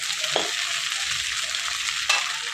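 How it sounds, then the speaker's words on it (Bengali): Potatoes frying in fish oil in a pan, a steady bright sizzle close by with a couple of short scraping stirs of a spatula, no voices. "আলুগুলো হচ্ছে একদম লাল লাল করে ভেজে নেব, এই তেলেই ভেজে নেবো"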